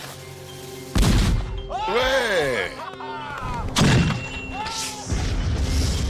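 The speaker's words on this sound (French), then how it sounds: "Il ne reste plus qu'à allumer la mèche. Ça va exploser. Ça va faire du bruit." A cannon fires a ball and chain in a prison-escape test: two loud, booming blasts a few seconds apart, each followed by a rumbling tail, with a voice cheering between them.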